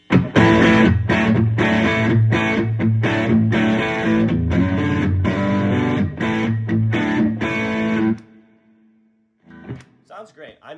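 Heavily distorted electric guitar from a Boss GT-1000 multi-effects unit, played loud through an amp and speakers, chugging chords for about eight seconds before stopping abruptly, followed by a few faint sounds.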